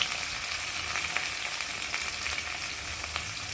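Ginger-cumin paste with salt, turmeric and chilli powder fries in a pan for a vegetarian soybean curry, producing a steady, moderate sizzle with faint spattering ticks and no talking.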